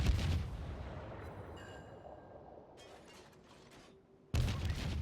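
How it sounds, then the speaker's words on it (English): Destroyer gunfire in World of Warships: a loud broadband blast at the start and again at the end, with quieter mechanical creaks and a few faint bursts in between, no voices. "And now we are in a gunfight."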